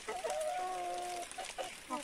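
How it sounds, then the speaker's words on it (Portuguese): Close, quiet clucking from a free-range hen, a drawn-out call followed by a few short clucks, alone with no talking. "Galinha caipira."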